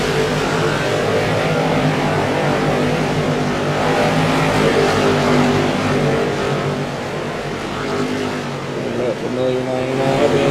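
Late model touring race cars roar around a track, a continuous loud engine drone with shifting revs as the pack circulates, under a commentator's voice.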